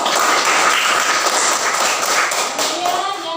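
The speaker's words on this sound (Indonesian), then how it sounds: "tepuk tangan untuk kelompok 2." Students applauding a fellow student group in an Indonesian classroom, a steady wash of dense clapping that holds loud and continuous for a few seconds before easing slightly.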